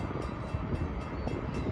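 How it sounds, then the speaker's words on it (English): Close CSX westbound freight train passing a crossing on Lake Avenue in Blasdell, NY, heavy continuous rumble with steady rhythmic clacks of wheels over rail joints. "we got a CSX westbound train down the line."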